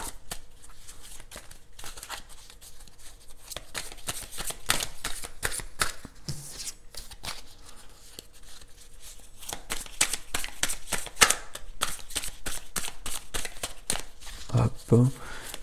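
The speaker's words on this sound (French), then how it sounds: "Alors, quelques cartes de tarot." Tarot cards are shuffled close by in a rapid run of crisp riffling snaps and flutters, with a voice talking over them.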